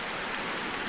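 Steady, calm rain in the video game Jurassic World Evolution 2, a soft even hiss of drops falling continuously with no talking.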